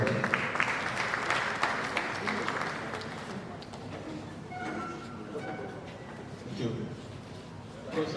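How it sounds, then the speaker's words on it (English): Audience applause at an academic surveying and geoinformatics conference, a dense wash of clapping that fades after a few seconds into murmuring crowd noise and a voice over a hall PA. "A round of applause for both of them."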